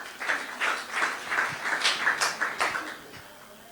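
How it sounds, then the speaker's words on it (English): An audience claps for a speaker at a civil society celebration of Kenya's constitution anniversary, a steady run of moderately loud hand claps lasting several seconds, heard from within the crowd. "May we clap for Malombe?"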